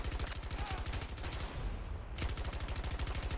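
Rapid automatic fire from the DFR Strife in Battlefield 2042 pounds in a fast, even rhythm, loud and close, with a brief pause midway before the burst resumes.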